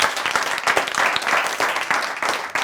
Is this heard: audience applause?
yes